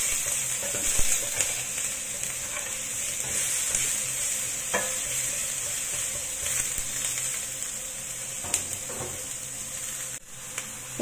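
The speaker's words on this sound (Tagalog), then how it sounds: "I-fry lang natin yan hanggang sa lumabas yung aroma ng ating garlic" Garlic and onion fry in a pan with a constant, bright hiss, close by, punctuated by occasional scrapes and taps of stirring.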